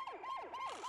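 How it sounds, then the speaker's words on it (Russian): A cartoon police car siren from an animated children's show about brave cars, wailing in quick repeating up-and-down sweeps, loud and close, with no talking. "Пэт может включать свою сирену во сне."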